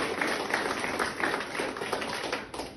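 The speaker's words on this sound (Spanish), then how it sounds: "¿Qué tal si les damos fuertes aplausos a papá Dios?" Audience at a celebration event giving loud applause, a brief burst of dense, even clapping with little talk.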